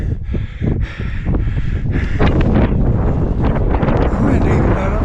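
Strong wind roars and buffets the microphone on a snowy mountainside near the Continental Divide in Montana, loud and continuous with gusty surges throughout.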